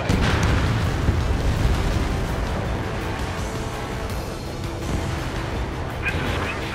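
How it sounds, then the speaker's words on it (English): A missile launches and explodes in the flight combat game Ace Combat 7, a dense, loud rumbling roar that holds steady throughout, over a constant jet-engine-like wash of noise. "Missile away."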